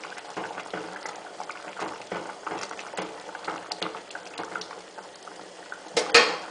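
A simmering stew of dried plums and yellow split peas bubbles softly while brown sugar is stirred in, with a steady low burble, light scrapes and a louder clink of utensil against pot near the end.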